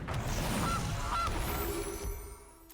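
A Gilded Goose card in a video card game gives two short, clear honks close together, followed by quieter game ambience.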